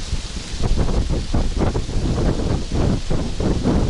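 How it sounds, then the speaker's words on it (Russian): Gusty wind blows steadily on a lake shore in the Lake Baikal region, roaring and buffeting the microphone in uneven pulses, loud and close with no voices. "Что-то ветер в разные стороны дует."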